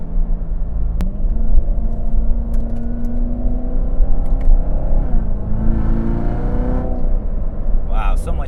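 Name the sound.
Corvette C7 Z06 engine accelerating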